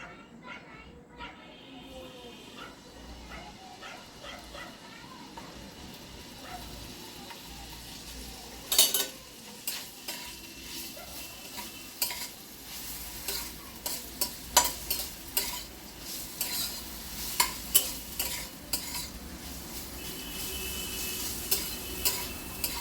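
Quiet sizzling of shrimp and meat frying in oil, with scattered clinks and scrapes of a utensil stirring in the pan, growing busier toward the end.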